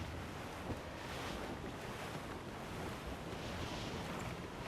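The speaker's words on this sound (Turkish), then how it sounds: "Rüzgar da esiyor valla." Steady wind rushes over open water in Assassin's Creed IV: Black Flag, with a broad, continuous hiss and soft swells rising and falling, with no voices.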